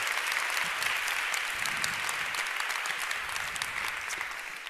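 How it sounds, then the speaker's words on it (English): A warm round of applause for partners fills a women-in-tech evening event, the crowd's steady, even clapping running for nearly five seconds before tapering slightly at the end, with no talking. "a warm round of applause for our dear partners"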